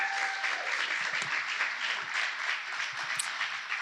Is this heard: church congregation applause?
yes